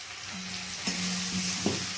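A fish head fries with spices for moong dal, a continuous close hiss of sizzling oil with a couple of brief scrapes from stirring, steady and fairly loud, no voices.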